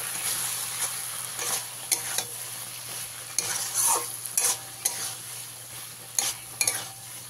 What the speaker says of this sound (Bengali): এইভাবে কিছুটা সময় আমি মিশিয়ে নেব।